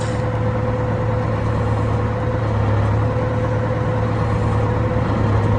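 A vehicle engine held at a steady 1,000 revs, a loud, constant low drone with a stable hum throughout and no talking.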